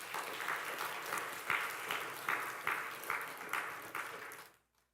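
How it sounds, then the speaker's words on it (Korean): Church congregation clapping during a Sunday service, a steady round of applause with a few louder accented claps, fading out abruptly at the end. "그렇게 생각하는 사람은 박수 한번 쳐보세요."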